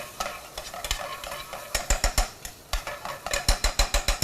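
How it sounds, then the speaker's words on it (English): A turmeric spice mixture dry-frying over high heat in a pan gives a close, rhythmic series of scraping and sizzling strokes as it is stirred, growing quicker and louder toward the end. "So turn the heat up again. And we can almost start to dry fry this."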